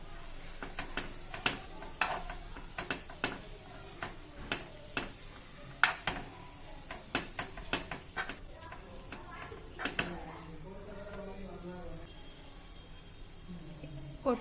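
A spoon taps and scrapes repeatedly against a pan while a potato and vegetable mixture with salt and coriander is stirred, producing sharp irregular clicks over a faint sizzle, close by.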